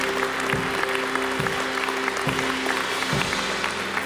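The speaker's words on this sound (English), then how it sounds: "Let's give the Lord a quick hand clap." A church congregation gives a quick round of hand clapping, with a steady sustained tone underneath and stronger claps landing at regular intervals, moderately loud throughout.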